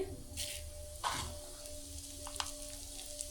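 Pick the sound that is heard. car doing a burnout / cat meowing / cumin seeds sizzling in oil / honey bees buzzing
cumin seeds sizzling in oil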